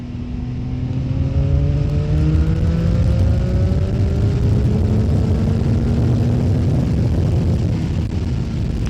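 CF Moto 675 motorcycle engine accelerating hard through the gears, a loud, close engine note that climbs steadily in pitch and holds a continuous roar throughout.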